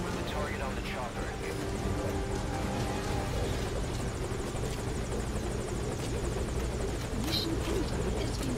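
Helicopter in Metal Gear Solid Ground Zeroes, a loud continuous rotor thrum and engine roar filling the whole clip, close by, with no talking.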